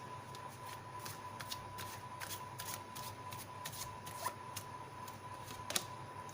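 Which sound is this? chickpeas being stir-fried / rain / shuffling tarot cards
shuffling tarot cards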